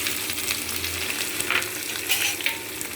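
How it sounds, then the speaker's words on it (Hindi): Onion frying with bay leaf and cumin in a hot kadhai, a loud, steady close-up sizzle with bursts of crackle as it is stirred, no voices. "जब तक ये प्याज भूनते हैं"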